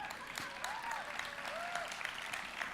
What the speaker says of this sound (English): It's all right to clap.